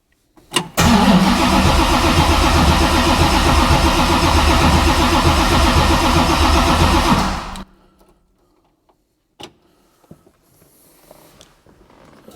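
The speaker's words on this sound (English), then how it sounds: "And let's turn on the car." A car with a new 347 stroker engine cranks over loudly for about seven seconds, the starter churning in a steady rapid rhythm without catching, then cuts off, leaving near silence with a few faint clicks.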